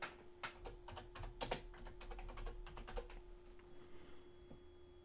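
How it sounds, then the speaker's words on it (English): Typing on a computer keyboard in a text editor produces quiet, close, uneven runs of key clicks over a faint steady hum, tapering into a brief pause at the end. "I'm going to type get social in all capitals."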